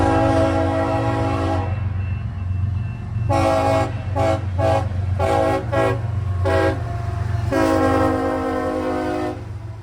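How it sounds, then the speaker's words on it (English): CSX I-132 manifest freight with a single GE Evolution (GEVO) lead locomotive rolls through Muncie, sounding its horn in a long, a long, a short burst, then a long blast over a steady, close engine and rail rumble. "I-132 finally came through town with the solo Gevo leader on the head end"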